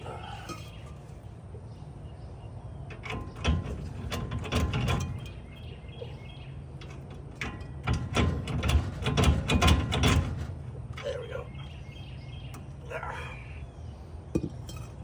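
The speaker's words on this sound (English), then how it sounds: "I'm gonna put this nut here so I can get this wheel seal out." Metal tools clink and ratchet while a wheel seal is pulled from an old Dodge, with a nut used as a spacer; irregular clanks and scraping come in bursts around the middle, close and moderately loud, with no talk.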